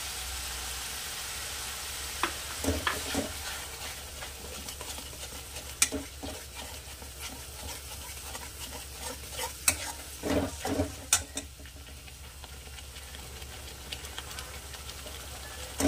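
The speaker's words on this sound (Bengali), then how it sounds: "এবারে দিয়ে দেবো কাঁচা লঙ্কা বাটা।" Green chili paste frying in a pan for a Bengali katla fish curry: a steady close sizzle with scraping spoon strokes and occasional sharp clinks against the pan, and no voices.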